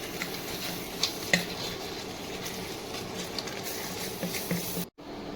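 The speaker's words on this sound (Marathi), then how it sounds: "आता हे सगळे मसाले टाकले ते चांगले मस्त मिक्स करून घ्यायचे. चांगले परतू द्यायचे ते." Chicken masala spices being stirred and sautéed in a pan, with a soft continuous scrape and a few light metallic clinks of the spoon against the pan, close and fairly quiet, no speech.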